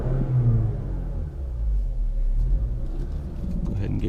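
A 2017/2018 Mazda 3 with a 2.5-liter four-cylinder engine and six-speed manual gives a deep, steady rumble that swells and eases, loud and close, without talk.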